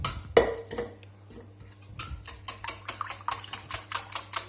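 A spoon scrapes and clinks against a bowl as milk is stirred into a flamiche filling of cheese and bacon, striking in a steady quick rhythm of close, crisp taps after a few scattered knocks.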